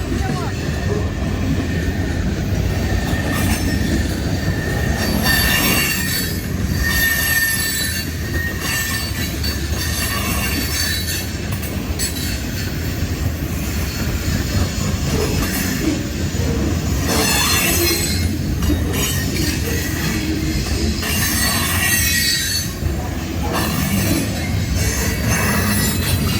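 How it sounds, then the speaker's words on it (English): A CSX freight train hauled by three engines rolls past up close, its wheels squealing high and steady over a continuous loud rumble of railcars, with people talking now and then underneath. "That was a quick train."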